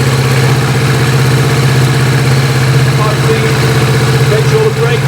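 A police motorcycle engine idles close by, a steady pulsing mid-to-low rumble that runs unbroken throughout, loud and even.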